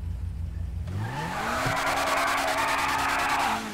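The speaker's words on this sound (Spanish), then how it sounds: "Mirad cómo suena este pedazo de coche." Lamborghini Reventón in GTA V: a low engine rumble rises into a loud, sustained tire screech and revving skid, held for about three seconds before cutting off.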